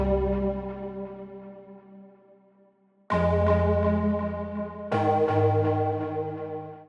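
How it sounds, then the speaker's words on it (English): Signature synth lead, remade in Serum: long sustained, buzzy harmonic chords that fade, then two sharp new chord attacks ringing out loud and alone. "So let's start off with their signature synth sound that was also in their other single"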